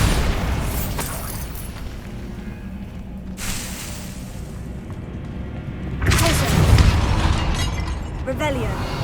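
Bombarda spell explosions in a Hogwarts video game: loud shattering booms with debris, one burst early and a bigger blast a few seconds later, heard under a voice speaking over the game sounds.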